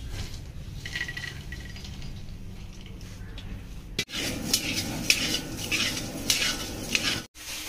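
Already roasted almonds are stirred and warmed in a pan while a lunch box is being prepared. Quiet metal-on-pan scraping and clinks give way to a louder, busier stretch of utensil rattling and light sizzle.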